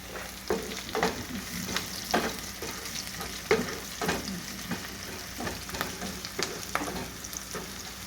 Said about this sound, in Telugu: ఆనియన్స్ బాగా ఫ్రై అయిన తర్వాత కొంచెం సోంపు వేసుకోవాలి. కొంచెం కరివేపాకు,